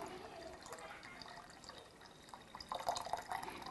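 Brewed tea poured slowly, giving a quiet, trickling dribble of liquid with a few soft drips that grow a little louder near the end.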